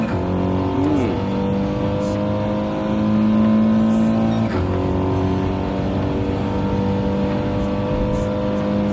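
An Audi race car engine drones loudly during a race, holding a sustained pitch with a brief shift midway and other cars faintly around it.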